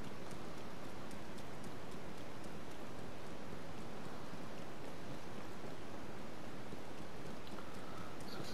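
Rain falling in The Legend of Zelda: Tears of the Kingdom, a constant even hiss of downpour with no voices and no breaks throughout.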